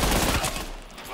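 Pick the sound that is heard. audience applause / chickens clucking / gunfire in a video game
gunfire in a video game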